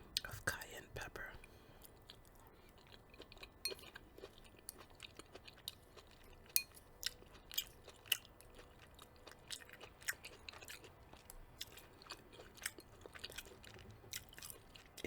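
Someone eats homemade chili with a hint of cayenne pepper, producing soft close chewing and small crunchy bites, with a few sharper clicks and whispering between mouthfuls.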